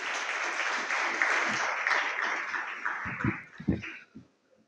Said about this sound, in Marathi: सगळ्यांसाठी अजून एकदा तुम्ही जोरात टाळ्या वाजवा